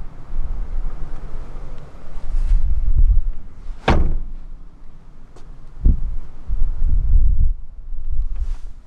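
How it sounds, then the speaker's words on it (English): The rear seat back of a 2014 SEAT Leon is released and folded down inside the car, with muffled rustling and handling noises and one sharp thump partway through. "Just locate this lever, pull on it, and the seat back folds down"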